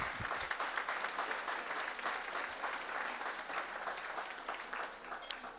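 Sustained applause from a gala audience fills the room, dense and steady with many hands clapping at once, fairly loud and unbroken throughout.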